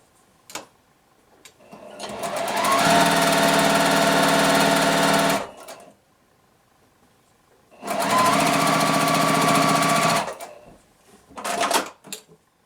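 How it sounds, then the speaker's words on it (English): A sewing machine stitches a quilt block roof section in two loud, steady whirring runs of a few seconds each, separated by a quiet pause. "I'm going to grab the roof section and sew that piece."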